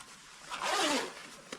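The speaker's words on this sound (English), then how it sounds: "This is a non-freezing zipper, and it's a double pull zipper" A double-pull, non-freezing zipper on a waterproof jacket slides in one smooth rasping sweep up close, followed by a faint click near the end, with no voices.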